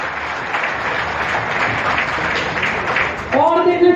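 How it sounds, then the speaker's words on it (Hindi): Applause from an audience at a public event in Delhi, a dense continuous patter of clapping held throughout, with a burst of cheering voices rising at the end. "तो एक बार कैनरा बैंक वालों के लिए भी ताली बजा दो।"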